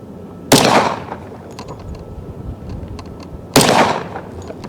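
Two loud, close gunshots from a Smith & Wesson M&P 10mm pistol ring out about three seconds apart, each a sharp crack followed by a short decaying echo.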